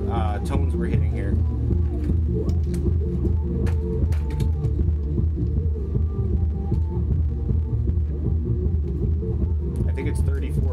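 A Skar Audio RP-1200 amplifier drives a subwoofer with a 34 Hz test tone, giving a loud, steady deep throbbing hum that holds for the whole stretch with slight rumble around it.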